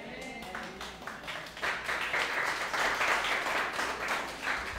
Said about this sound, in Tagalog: sila naman yung malalakas pumalakpak